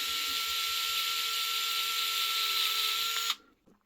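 A small power driver with a 1.5mm hex bit whirs steadily, backing out tiny screws that hold a brushless motor to the gearbox of a TRX4M RC crawler, then cuts off abruptly near the end.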